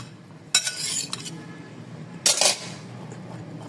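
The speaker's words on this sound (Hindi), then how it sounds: "थोड़ा सा डालेंगे हम इसमें हरा धनिया, और इसको अच्छे से मिक्स कर दें।" A spoon clinks and scrapes against a bowl in two short bursts while chana chaat with chaat masala and fresh coriander is mixed, with a quiet pause between them.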